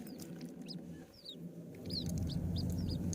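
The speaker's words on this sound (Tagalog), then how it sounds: "Parang manok na yan." Faint chicken clucks and short chirps come from outdoors at a quiet distance over low rumbling background noise.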